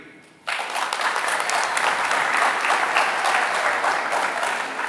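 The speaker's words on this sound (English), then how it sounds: "Clap if you agree." A high school graduation audience breaks into sudden, sustained applause, a dense wash of clapping from a large crowd that carries on steadily to the end.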